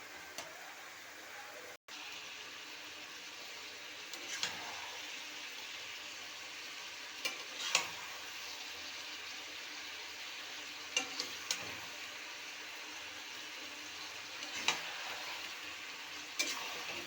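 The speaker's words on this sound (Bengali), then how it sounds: "এবং কিছুক্ষণ ভাজার পরে আপনি এর মধ্যে আদা রসুনটা দিয়ে দেবেন। আপনার যতক্ষণ ইচ্ছে আপনি ভাজুন" Chicken frying with ginger and garlic in a pan, a faint steady sizzle with occasional light ticks and clinks from stirring.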